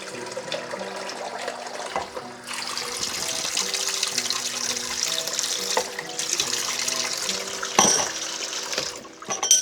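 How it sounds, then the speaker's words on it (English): Two cups of water pouring from a tap into a bowl for carrot cake, a steady rushing splash that swells louder midway and runs on with brief clatters. "So now I'll have to add 2 cups of water."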